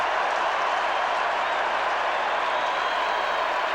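Steady, dense applause and cheering from a huge stadium crowd at the 1995 Grand Final between Port and Central, a broad continuous roar with no break that stays loud throughout.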